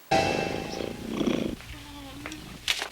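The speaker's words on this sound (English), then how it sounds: "in case you didn't catch that, the cat's purring" A cat covered in foam purrs in a film scene, a low rumbling purr up close with faint chirps and a small bright sound at the end, no clear talk over it.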